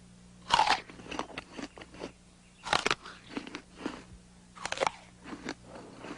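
Three loud crunching bites into a crisp apple, each followed by softer chewing crackles, close and alone with no talk.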